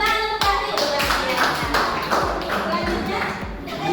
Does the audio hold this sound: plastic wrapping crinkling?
no